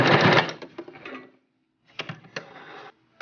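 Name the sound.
sewing machine stitching a baby headband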